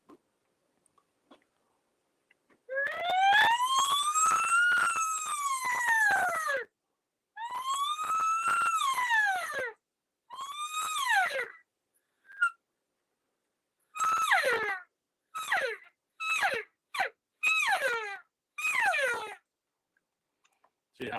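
A person imitates an elk cow call: long rising-and-falling siren-like squeals come first, then the calls are cut into a series of short, sharp chirps with gaps between them, close and alone.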